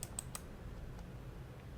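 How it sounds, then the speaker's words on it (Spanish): Quiet mouse clicks at a computer while working in an Excel spreadsheet, three faint sharp clicks close together near the start, then near silence with a couple of softer ticks. "Clic derecho en la fila que quiero eliminar"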